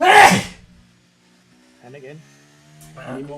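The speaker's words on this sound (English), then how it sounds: "No, I sneezed." A single sharp sneeze from a person bursts out loudly at the start, followed by quiet and then brief speech.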